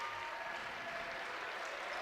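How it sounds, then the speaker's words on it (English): Fans at a women's college basketball game between Michigan and Purdue break into steady applause, a dense, even wash of clapping that fills the arena at moderate volume without pause. "You can hear the applause starting"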